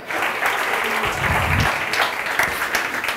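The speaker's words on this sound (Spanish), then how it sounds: "Un fuerte aplauso a los virus mutantes." Studio audience at a science talk gives a strong burst of applause, dense and loud throughout, with a few louder whoops or voices briefly rising within the clapping.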